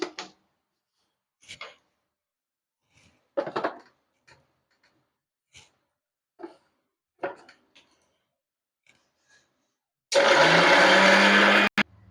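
Small watermelon pieces for juice are handled with a few scattered clicks and taps, then a mixer grinder starts and roars loudly and steadily for about two seconds before stopping.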